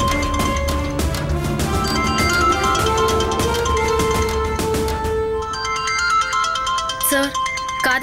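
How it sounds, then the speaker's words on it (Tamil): A mobile phone ringtone plays loudly as a repeating melodic tone pattern, continuing through the clip with voices talking over it in a domestic TV drama scene. "ஃபோன் அடிக்குது பாருங்க"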